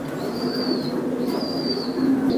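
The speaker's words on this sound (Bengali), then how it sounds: "এই যে দেখেন ভাই, যে আরেক জোড়া কবুতর" Pigeons coo steadily at a racing pigeon farm, a low throaty murmur running throughout, with a faint whistling note drifting in twice over the continuous background.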